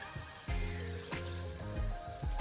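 Water pours into a pot of Jamaican-style brown stew chicken, giving a steady close gurgling stream with small splashes and bubbling shifts, with no talking.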